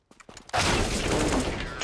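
Gunfire from the Counter-Strike video game, a loud sustained burst beginning about half a second in after a few quieter clicks and taps, continuing dense to the end.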